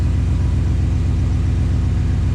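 Chevrolet Tahoe engine idling with an open exhaust crossover, a steady, loud, close rumble with an even low throb, no voices.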